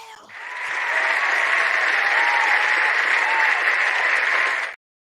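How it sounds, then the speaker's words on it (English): A crowd cheers and applauds as a sound effect, a steady dense roar of clapping that swells in quickly, holds evenly for about four seconds, then cuts off abruptly. "the crowd goes wild"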